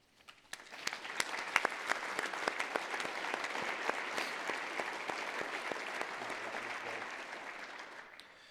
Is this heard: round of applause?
yes